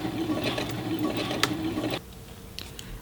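A sewing machine runs a regular stitch while attaching bias tape around the neck collar of a mini dress, giving a steady close mechanical whir for about two seconds. It then stops, leaving a few light clicks in near quiet.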